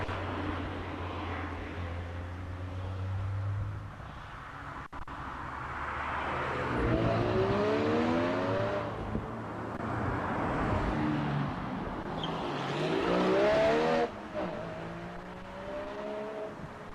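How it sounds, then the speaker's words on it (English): Rally cars tear past one after another on a gravel rally stage, engines rising and fading as each approaches and passes, a continuous roar with revving sweeps and no talk. "Cars coming through thick and fast at the moment."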